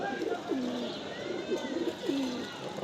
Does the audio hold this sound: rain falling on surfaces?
no